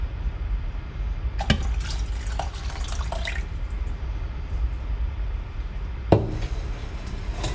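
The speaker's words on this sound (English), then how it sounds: "can I pour the rest in?" Meat stock poured into gravy while cooking a Christmas roast dinner, heard as a few short liquid splashes and trickles over a low, steady kitchen background, with no talking.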